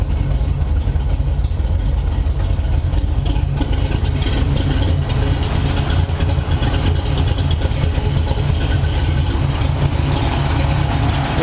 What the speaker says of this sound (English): Engine running nice.